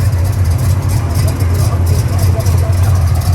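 A 1987 C4 Corvette V8 fitted with Holley Sniper EFI idles close by, a loud steady low rumble with an even pulsing throb, while people talk nearby.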